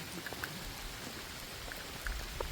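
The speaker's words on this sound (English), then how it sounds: "It's already raining" Steady rain falling under trees, a soft continuous hiss dotted with nearby drips striking leaves and surfaces, fairly faint, with no voices.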